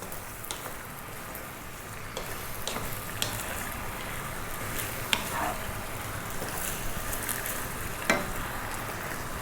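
Vegetable rigatoni sizzles and fries in sauce in a pan, a steady soft crackle broken by occasional scraping clicks as it is tossed and stirred, with no voices.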